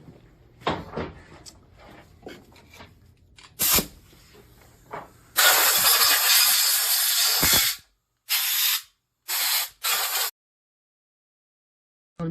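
Compressed air blasting off Sea-Doo 951 DI RX jet pump parts during a rebuild, several loud hissing bursts of varying length separated by silence, after some quieter handling clatter.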